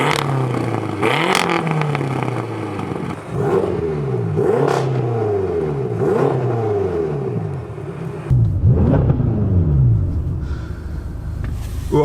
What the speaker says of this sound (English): let's give it a few little revs and give you an idea of what it sounds like